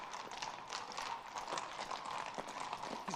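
Horse hooves clip-clopping steadily at a walk, moderately near and continuous, with no talk over them.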